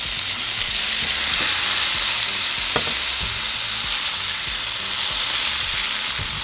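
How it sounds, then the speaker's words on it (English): Tomatillos frying in a hot pan give a loud, dense, continuous sizzle up close, with occasional soft stirring knocks and no talking. "and begin to fry them"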